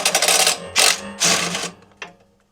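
A power driver whirs in three loud, close bursts, undoing the small 10mm bolts on the fuel tank bracket of a Weibang mower, and ends with a faint click.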